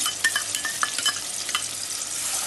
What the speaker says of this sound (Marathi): आपण फ्राय करूया